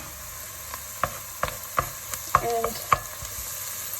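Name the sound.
garlic sizzling and being stirred in a frying pan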